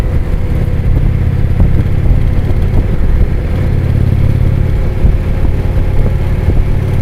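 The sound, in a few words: motorcycle engine revving while riding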